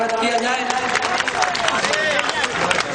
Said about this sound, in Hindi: ताली बजाकर उनका स्वागत किया जाए